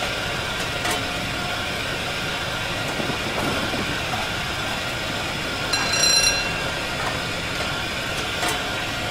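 A Class A4 steam locomotive running at speed on the London to Brighton line, heard as a steady loud rushing roar of wheels and motion with a brief louder surge partway through.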